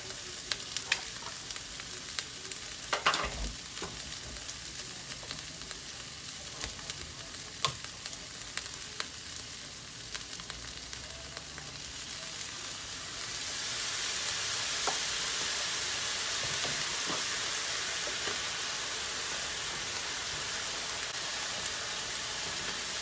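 Cabbage, paprika and green pepper are stir-fried with oyster sauce, with scraping and clattering stirring at first and then a louder, steady sizzle taking over midway and continuing to the end.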